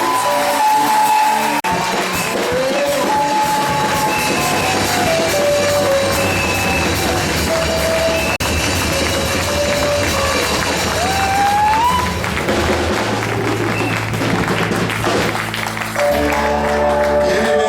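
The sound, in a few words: congregation cheering and applause in worship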